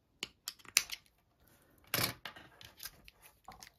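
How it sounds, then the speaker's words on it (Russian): Small scissors snip off the thread end while making a crocheted Easter egg stand, giving a few quiet, close, crisp clicks and cuts with short pauses between them. "Итак, я обрезаю конец ниточки"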